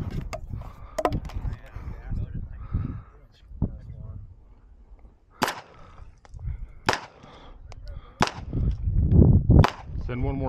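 Sharp gunshots at a 3-Gun shooting match, several loud cracks spaced irregularly amid outdoor rustle and handling noise, with a person talking between shots.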